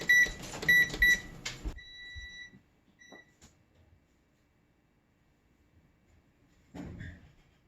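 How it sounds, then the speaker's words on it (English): An oven timer being set while a Maine blueberry crisp bakes: a quick run of close electronic button beeps, then a couple of longer tones, followed by quiet with a faint knock near the end. "I'll set the timer for 15 more minutes"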